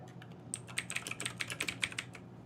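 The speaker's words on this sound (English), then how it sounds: "how loud is my fucking keyboard?" Rapid keystrokes clatter on a loud computer keyboard, a dense burst of sharp clicks in uneven rhythm, close and clear over a low steady background hum.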